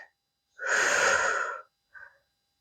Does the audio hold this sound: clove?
no